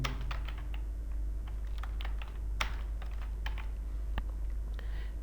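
Typing on a computer keyboard while entering a channel name into an intro template, with irregular clicky keystrokes at a steady close distance over a low hum and no speech.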